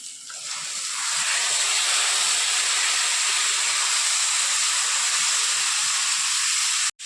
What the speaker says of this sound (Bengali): এখন মাটনটাকে কষছে।